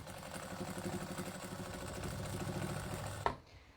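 A sewing machine stitching a decorative design onto a fabric book cover runs with a steady, fast, rhythmic whir and clatter, then stops abruptly with a small click, leaving quiet.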